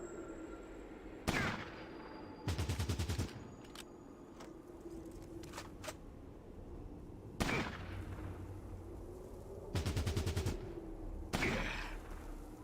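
Sniper rifle fire in a Fallout game: several loud, sharp cracks spaced seconds apart, some in rapid clusters like bursts, over a quiet ambient hum.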